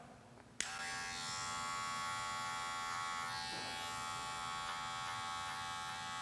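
A Wahl electric hair clipper with a half guard lever opened fades away a line in a barber competition; a click starts a steady, close, even motor buzz that runs alone to the end.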